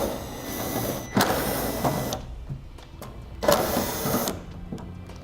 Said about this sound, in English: Now I'm going to be using a T25 to remove these 4 fasteners.